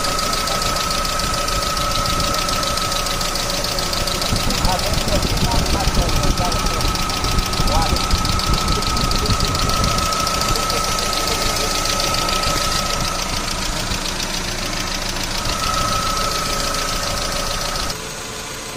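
A Chevrolet Aveo with an E-TEC II engine runs after a botched repair, idling loudly and steadily with a rattling, knocking texture throughout, while someone speaks over it.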